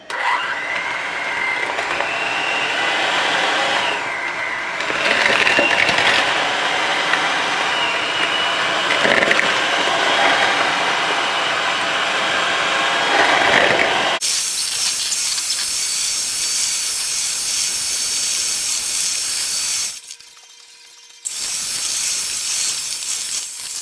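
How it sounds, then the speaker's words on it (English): An electric hand mixer on low speed beats cream cheese for a cheesecake, giving a loud, steady whirring drone that shifts in pitch partway through, then cuts out briefly before starting again. "if you're using a hand mixer, just use low"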